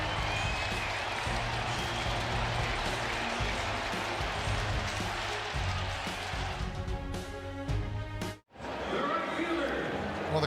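Baseball stadium crowd at an MLB Wild Card game cheering and clapping after an inning-ending double play, a broad steady roar under a commentator's talk, briefly cutting out near the end.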